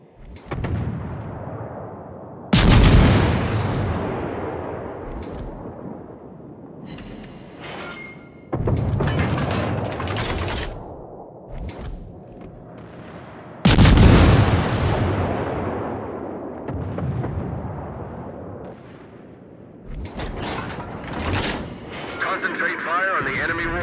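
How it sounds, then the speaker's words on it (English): Heavy warship artillery fire in the naval battle game World of Warships: a few loud, booming salvos spaced several seconds apart, each decaying into a long rumble, with a voice speaking over the action. "Concentrate fire on the enemy warship."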